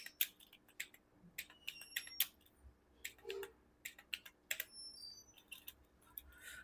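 Irregular clicks of computer keyboard keys during Hindi typing practice, light, quick taps in bursts with short pauses, close and fairly quiet against a faint steady background tone.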